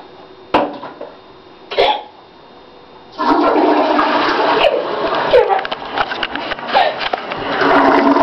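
A toilet flushes with a loud, close rushing surge that runs for about five seconds, preceded by a couple of brief sharp noises like a cough or sniff.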